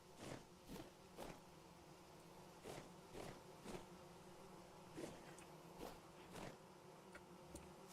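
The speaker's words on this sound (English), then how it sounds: "In one of these two trees, there's a bee's nest somewhere." Faint buzzing of bees from a nest hidden in a tree in the Vintage Story video game, heard as soft repeated pulses over a quiet ambient background, with no talking.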